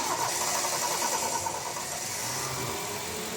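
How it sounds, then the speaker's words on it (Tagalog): A Toyota Corolla engine with hard-starting trouble catches and settles into a steady idle, close and fairly loud, with a brief cranking sound at the start. "pwede ko nang start itong makina"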